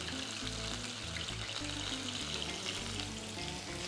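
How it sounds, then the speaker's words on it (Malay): Buffalo wing sauce bubbling and sizzling in a pan, a continuous dense crackle and simmer, close and steady throughout. "Nampak dia dah mendidih dah tu."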